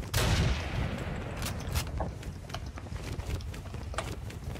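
Rapid gunfire in a Minecraft game rattles throughout, a loud opening burst giving way to steady popping shots with scattered sharper cracks.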